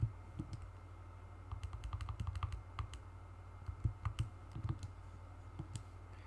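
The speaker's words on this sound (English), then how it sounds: "Type that in my calculator." Keys on a calculator are tapped in quick, irregular runs of light plastic clicks, close to the microphone and fairly soft, with short pauses between bursts and no talking.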